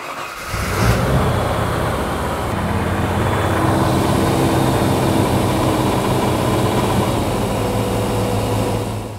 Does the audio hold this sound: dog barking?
no